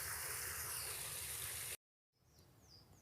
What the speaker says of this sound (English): a small, pretty little waterfall on a side branch of Rocky Fork Creek here